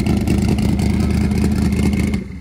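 A 2,000hp Ford Coyote-engined race car revs hard and accelerates, a loud, sustained high-RPM engine roar that holds steady close by, then drops off at the very end.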